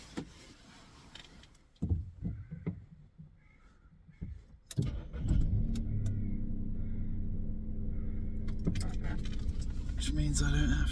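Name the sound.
starting a car engine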